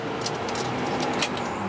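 Car keys for a 1968 Lincoln Continental jangle and clink in a quick metallic flurry, close and fairly quiet, heard alone for under two seconds.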